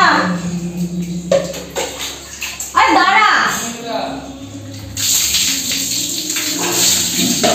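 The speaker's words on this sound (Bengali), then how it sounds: "এখন স্নান করতে চলে এসেছে" Water runs and splashes during a young child's bath, a gushing, spraying wash that grows louder partway through, with a child's and an adult's voices talking over it close by.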